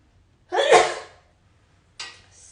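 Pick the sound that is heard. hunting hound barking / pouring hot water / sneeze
sneeze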